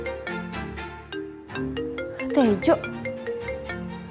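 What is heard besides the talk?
mobile phone ringing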